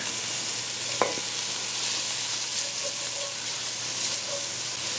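Chopped onion, hot pepper and garlic fry in hot oil for a tofu dish, giving a steady close sizzle and hiss with a brief clink of a utensil near the start, and no voices.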